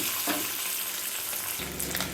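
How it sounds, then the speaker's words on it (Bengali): Eggs fry in hot oil over a medium flame, a dense close crackling sizzle that swells briefly near the end, with no one speaking. "ডিমটাকে ভেজে নেব"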